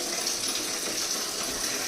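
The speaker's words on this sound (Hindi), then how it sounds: "इसमें से पानी टपकने लगा है।" Water from a leaking shower runs steadily and close, a continuous hissing trickle with no pauses and no voices over it.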